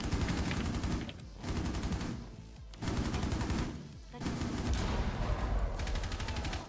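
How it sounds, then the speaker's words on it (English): Rapid automatic gunfire in a Rainbow Six Siege match comes in three long bursts separated by short pauses, loud and close, with a voice speaking briefly in the background. "They're shooting nomad in the beacon."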